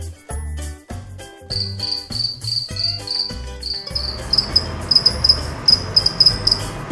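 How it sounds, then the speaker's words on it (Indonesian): A two-spotted cricket chirps in rapid, repeated high-pitched pulses, loud and close, against a background of other rhythmic sounds. "Dalam bangsa jangkrik, doi dikenal paling doyan nyanyi"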